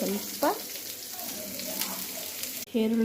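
Onions frying in a pan, a soft continuous sizzle under brief bursts of nearby talk, with a small clatter partway through.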